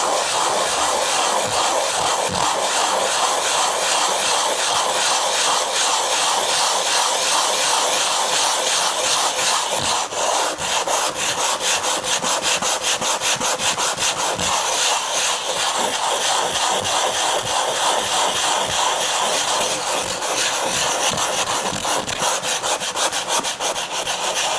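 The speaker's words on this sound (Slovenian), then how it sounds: "jaz na ta brusilni papir dam malo vode in potem mokro brusim" An aluminium drink can is wet-sanded on water-soaked sandpaper, a continuous loud gritty rasping scrape with quick back-and-forth strokes that never pauses.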